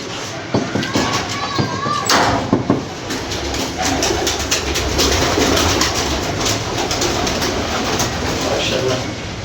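Pet pigeons, a special banded breed, coo repeatedly in a busy outdoor loft, with their soft calls blending into steady background rumble and scattered clatter, and a brief louder burst early on.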